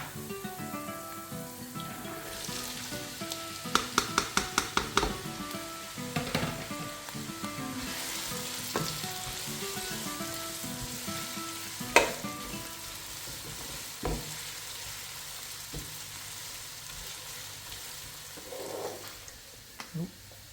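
Sliced onions hit hot oil already cooking ginger, garlic and green chili, giving a soft steady sizzle with scattered clinks of a spoon stirring the pan, quiet and close.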